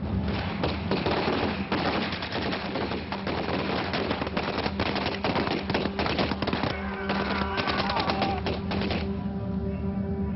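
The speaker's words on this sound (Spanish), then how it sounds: "dispara los primeros tiros aliados del día D" Dense, rapid Allied gunfire during the D-Day landings in Normandy, with rattling bursts and heavy thuds, loud and continuous, like a battle in full swing.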